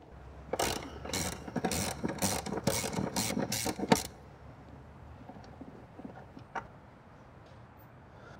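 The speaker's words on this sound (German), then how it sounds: "1/2 Zoll Ratsche mit langer Verlängerung und eine 16er Nuss und lösen die beiden." A 1/2-inch ratchet with a long extension and 16 mm socket loosens bolts on the rear axle of a VW Passat, giving about nine rapid, loud pawl clicks in a steady rhythm before falling quiet.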